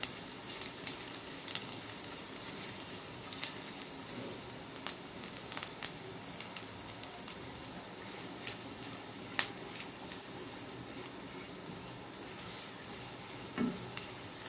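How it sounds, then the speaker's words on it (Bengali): Garlic fries in a pan until it turns reddish, for a spiced red lentil dal, giving a faint, steady sizzle broken by scattered small pops and clicks. "রসুনটা লাল লাল করে ভেজে নিতে হবে।"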